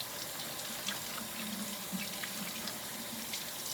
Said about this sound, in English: Then you're going to want to rinse your individual leaves down in water.